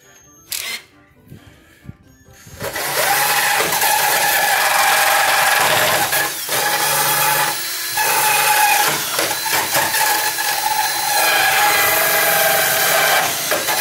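A power saw cuts steadily through fiberglass while a trailer hitch is fitted to a 2016 Land Rover Discovery, grinding loud and close for most of the span after a few brief knocks at the start.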